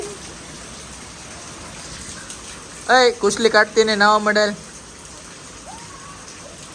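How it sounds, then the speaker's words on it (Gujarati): Continuous monsoon rain patters steadily across the whole stretch, a broad soft hiss, with a short burst of speech in the middle. "હવે વરસાદ અમારો ચોમાસાનો પહેલો વરસાદ આવ્યો છે"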